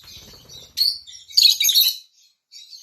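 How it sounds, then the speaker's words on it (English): A small bird perched on a person's head chirps close by in quick, high, twittering bursts. A louder flurry of chirps comes in the middle, with short quiet gaps between calls. "Look guys, the bird is on my head."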